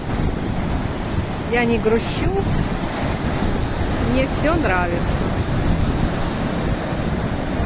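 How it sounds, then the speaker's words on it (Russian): Stormy Black Sea surf rolls continuously onto a deserted Crimean beach, loud and close, with strong wind buffeting the microphone while someone speaks briefly over it. "На море штормит, но очень красиво."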